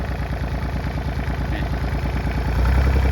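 The engine of a 31-horsepower four-wheel-drive Iseki TS3110 small tractor chugs steadily nearby with a fast, even putter and rattling vibration, growing slightly heavier toward the end.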